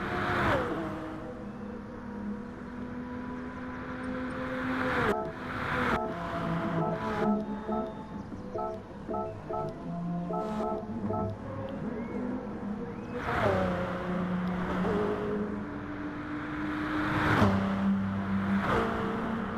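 GR1 prototype race cars roar around Spa-Francorchamps in Gran Turismo Sport, engines revving and shifting through gears as cars pass by at steady volume, with no talking.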